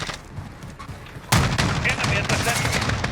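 Rapid video game gunfire from a customizable weapon, dense bursts that suddenly open up loud and close after a quieter stretch, continuing steadily with a voice talking over it.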